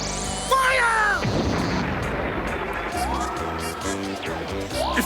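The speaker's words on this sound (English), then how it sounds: "Load the cannon!" Cartoon cannon firing, a single heavy boom followed by a rumbling, crackling tail, with whistling and clattering sounds around it.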